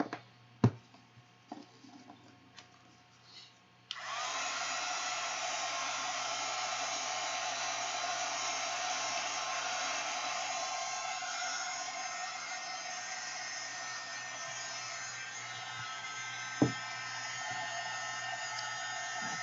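A hair dryer blows a steady broadband whoosh across an art journal page, switching on after a few seconds of quiet handling sounds and running continuously and loudly to the end.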